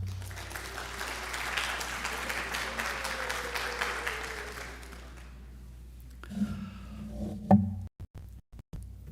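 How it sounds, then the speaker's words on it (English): Audience applause fills a school awards assembly hall, steady and dense for about six seconds before thinning out into a few scattered claps and small bumps. "Give them an applause"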